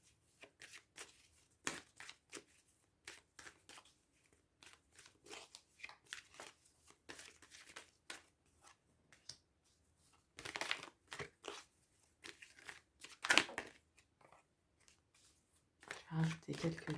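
Tarot or oracle cards being shuffled and laid out, a quiet series of short papery snaps and slides with brief pauses, close and soft, with light talking near the end.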